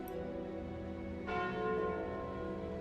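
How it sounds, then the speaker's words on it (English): Calling Bell relic in Slay the Spire rings out at about 1.3 seconds, a bright bell strike with a sustained, ringing tone over steady game music. "I think I'm going to take the calling bell"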